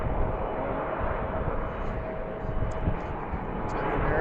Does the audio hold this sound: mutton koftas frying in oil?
no